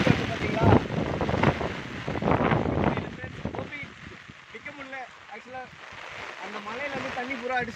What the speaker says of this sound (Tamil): அந்த மலையிலேருந்து தண்ணி பூரா அடிச்சுக்கிட்டு வருது.